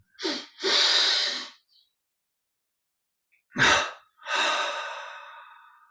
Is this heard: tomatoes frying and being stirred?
no